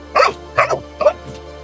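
A dog barks four times in quick succession, sharp and fairly close, each bark short and spaced about half a second apart, with quiet in between.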